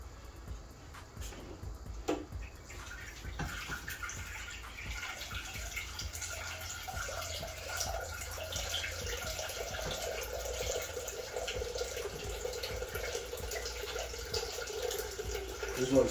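Water pours steadily into a pot of salted garbanzo beans, a continuous close splashing fill that runs unbroken for the whole stretch with no voices.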